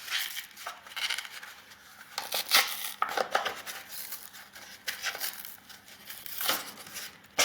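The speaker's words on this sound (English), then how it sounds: "So I'm just taking that double-sided cardboard and just ripping it apart." Double-sided cardboard being torn apart by hand: a run of close, dry ripping and crinkling bursts of uneven length, with a few sharper tears standing out, and no voices.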